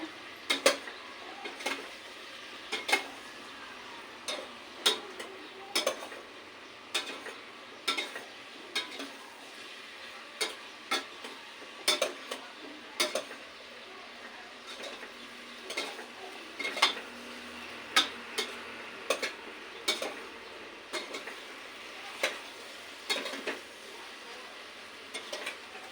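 Pakbet vegetables are stirred in a cooking pot, a spoon knocking and scraping against the metal in repeated irregular clatters over a faint background hiss, with no talking.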